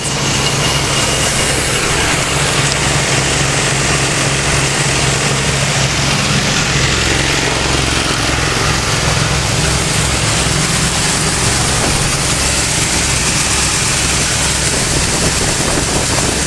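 An auger conveying fertilizer with an engine running, a loud, continuous rumbling drone with rhythmic mechanical churning close up and no talk.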